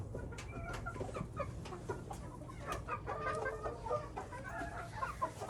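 Chickens clucking in their new coop, several hens giving soft overlapping clucks and brief calls at close range, with a steady low hum underneath and no talking.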